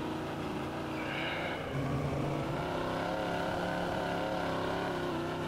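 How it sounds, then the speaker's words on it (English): A Ford Raptor engine idles in the SpinTires off-road video game, a steady low droning rumble running continuously underneath with no talk. "I think we have the Raptor idling sound in the background."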